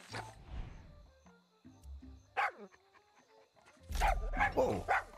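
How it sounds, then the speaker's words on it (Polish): A dog in the video game Far Cry 6 barks and whimpers in a few scattered bursts, with short yips and a cluster of louder barks near the end over quiet game sounds. "Never worked so hard for a dog's love, but you deserve it, Perito."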